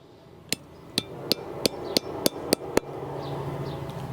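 Eight sharp metallic taps, evenly spaced and close, as bushings are driven into a Thrashin Supply adjustable brake lever for a 2024 Harley-Davidson Road Glide, with quiet room tone between strikes.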